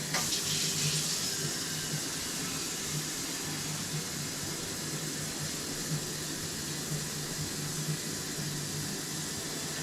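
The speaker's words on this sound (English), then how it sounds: "oh, I gotta put the water in. Coffee maker." Water pouring in a steady stream into a coffee maker, a continuous splashing rush that holds its level throughout.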